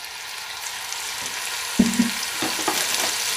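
Bacon browning in oil in a heavy-based pot, a steady close sizzle with a few sharp clunks of stirring and scraping partway through, no talking.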